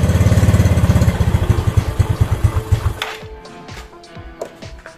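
A Yamaha Mio scooter engine that had been hard to start runs close and loud with a fast, throbbing pulse, then cuts off after about three seconds, leaving light clicks and ticks.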